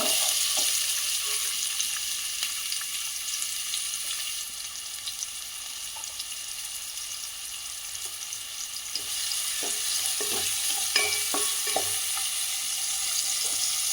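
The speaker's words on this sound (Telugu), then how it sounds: "కట్ చేసి పచ్చిమిర్చి ఇది బ్రౌన్ కలర్ వచ్చేదాకా వేగనిద్దాం" Onion and green chillies with a bay leaf fry in oil for a cashew paneer masala curry, a steady close sizzle broken by scattered stirring taps and spoon clicks, without speech.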